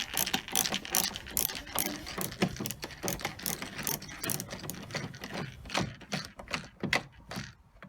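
A ratcheting screwdriver works screws out of the rear light cluster on a VW T5 Transporter, with rapid, close clicking that runs steadily throughout.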